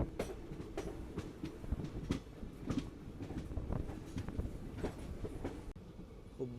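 A 06577 Bengaluru–Vijayapura Express train rolls into Hubballi South railway station with a steady, close rumble and a rhythmic clickety-clack of wheels over rail joints. A faint squeal rises near the end, and no one talks.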